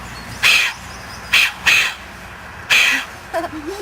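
A Eurasian jay gives harsh, raspy alarm screeches in a forest, four loud calls spaced about a second apart, near and clear over quiet background, with a brief softer squawk at the end.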